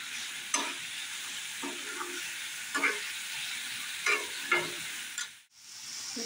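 Chilli powder, cumin, coriander powder and ginger-garlic paste fry in a pan with a soft steady sizzle, broken by several sharp scraping stirs of a spatula and a brief dropout near the end.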